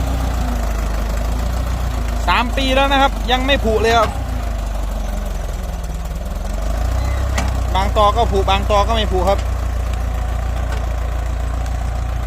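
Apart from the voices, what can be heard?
Ford 6640 tractor engine running while plowing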